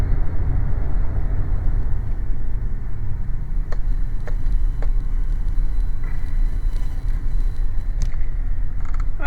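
A truck drives through heavy Cleveland traffic, its steady low engine and road rumble continuous and close, with a few faint creaks and rattles poking through.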